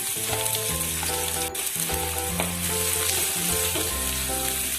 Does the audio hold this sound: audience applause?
no